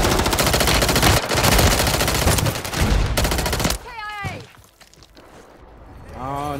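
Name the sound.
gunfire in video game Call of Duty Modern Warfare 3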